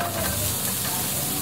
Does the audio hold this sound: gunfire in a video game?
no